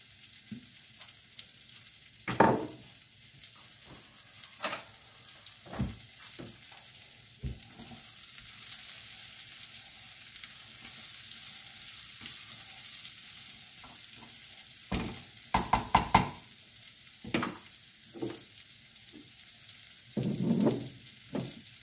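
Shrimp sizzle in a pan being deglazed with balsamic vinegar, a steady soft frying hiss broken by occasional utensil scrapes and knocks against the pan.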